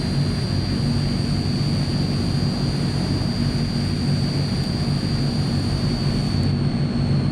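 A Transall C160 turboprop roars steadily in a flight simulator as one engine goes into reverse while taxiing. A dense, constant drone with a thin high whine runs unbroken for about seven seconds, with no speech.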